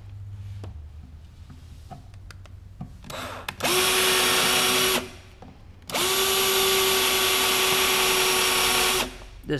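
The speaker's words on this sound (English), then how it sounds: "This drill bit's dull as fuck." A power drill with a dull bit bores holes in metal during an LS engine swap on a Porsche 944, sounding as two long, loud, steady whirring bursts separated by a short pause, with no talking.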